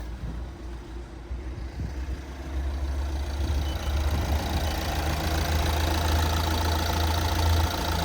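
The 1.6 diesel engine of a 2013 Renault Grand Scenic idles steadily with a low, even hum that grows a bit louder partway through, with no other sounds.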